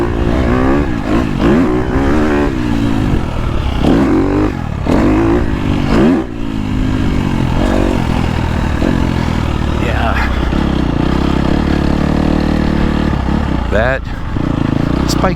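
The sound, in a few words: KTM 250 Factory Edition motorcycle engine riding on track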